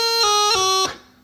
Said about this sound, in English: Right, it sounds very flat